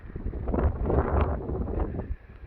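Steady wind buffets the microphone outdoors on a walk on a breezy day, a loud continuous low roar with gusty swells and faint rustling, no voices.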